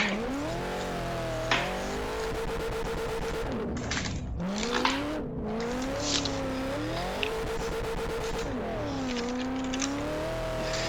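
A four-door Nissan Skyline R32 works through a lap, its engine rising and falling in pitch through shifts and throttle changes, with brief tire squeal and skid bursts, steady and fairly close throughout.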